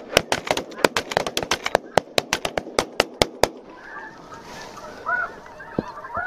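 A rapid, loud volley of shotgun blasts rings out during a snow goose hunt over a decoy spread. Geese honk and call as the shots end, with a voice in the background.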